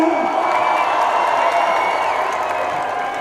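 A live crowd at a Europaparty event applauds and cheers for a performer, a steady wash of clapping and whoops that holds evenly loud for a few seconds, then eases slightly toward the end.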